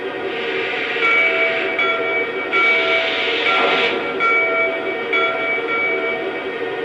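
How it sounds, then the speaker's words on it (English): A Lionel NYC Pacemaker L-2a Mohawk model steam locomotive sounds its first electronic bell tone, a metallic ring repeating about every second over a constant hissing, rumbling sound-system background. "So here's bell number 1."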